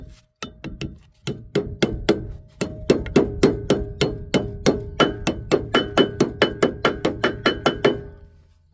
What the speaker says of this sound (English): Go ahead and set our grease seal.